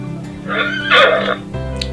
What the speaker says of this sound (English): It sounds like a neighing heartbeat.